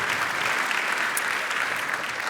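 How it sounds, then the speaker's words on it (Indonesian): An audience on a televised stand-up comedy competition claps for a comedian after a set, a thick steady burst of applause that stays fairly loud throughout without talk. "Tepuk tangan dulu untuk Deswin, bagus banget."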